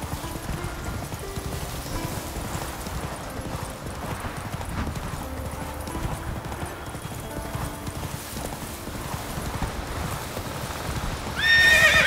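Horse galloping in the video game The Witcher 3 on the island of Skellige, a steady rhythmic clip-clop of hooves with snorts, ending in a loud whinny, with no talk.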